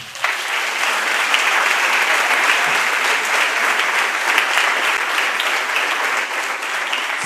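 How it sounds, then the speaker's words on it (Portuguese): A church congregation applauds together in sustained, dense clapping that stays loud and even for several seconds, a crowd of hands filling the room without speech. "Aplaudo o Senhor por isso."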